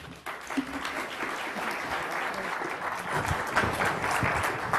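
An audience claps to welcome speaker Corrine Sandler at a business event, a dense sustained wash of applause that grows slightly louder toward the end, with a murmur of voices under it.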